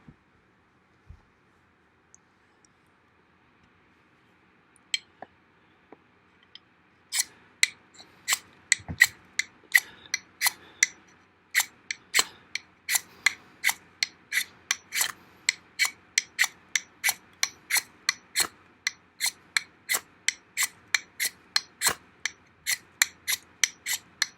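A black-coated Ka-Bar IFB trailing-point knife blade scrapes a ferro rod: a few scattered taps first, then a long run of quick, evenly repeated rasping strokes, close and crisp.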